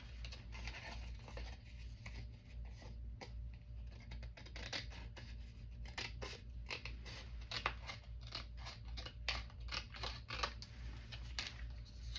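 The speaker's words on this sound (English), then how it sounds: "should use my other scissors, they're longer." Scissors snipping through fabric and paper for a journal pocket, close and quiet, with irregular runs of short crisp cuts over a low steady background hum.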